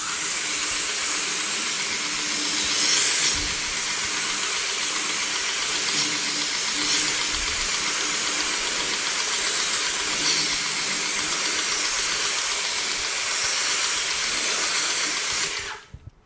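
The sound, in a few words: water spray rinsing off tire shine product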